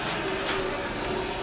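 A large ambulance bus fitted with a mobile operating theatre has its door opened, giving a close, steady pneumatic hiss with a mechanical whir that runs through the whole moment.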